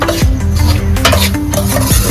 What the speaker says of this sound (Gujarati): તો દોસ્તો આપણે રવો શેકવા નાખી દીધો છે